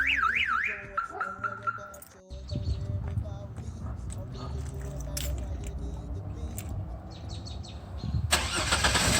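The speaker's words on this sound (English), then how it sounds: "if you hit it hard enough, the full alarm will go off" An aftermarket car alarm sounds after a shock-sensor hit, cycling through loud warbling siren tones and chirps with short gaps between patterns, close and piercing, with a brief engine-like rumble underneath.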